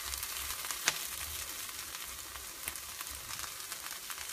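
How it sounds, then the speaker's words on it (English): Onions fry in a pan with a soft, steady sizzle and faint crackles, close but quiet, with a single sharper pop early on and no talking. "I'm not going to count how long I fry the onions for"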